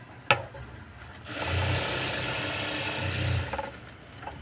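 A sewing machine stitches piping onto a blouse: a sharp click, then two short runs of rapid, close mechanical stitching separated by a brief slowdown, with no talking.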